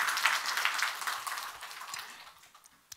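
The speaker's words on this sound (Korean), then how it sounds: "박수 한번 하겠습니다." A church congregation at a harvest thanksgiving Sunday service breaks into brief applause, a bright clatter of many hands that starts full and fades away over a few seconds.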